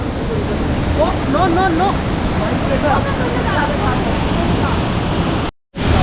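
Broad, steady rush of water at Kanchenjunga Falls, a waterfall near Lachung in Sikkim, fills the scene close and loud, with a voice and other speech over it before it cuts out briefly near the end.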